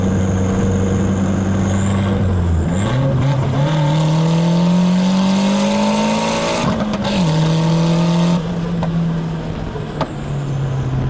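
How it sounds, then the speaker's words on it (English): A tuned car with a modified engine management pulls hard from 40 mph in second gear, the engine note climbing loudly, then a quick shift into third and another rising pull, recorded from inside at close range. "I'm going to do a little second to third gear pull from 40 miles an hour."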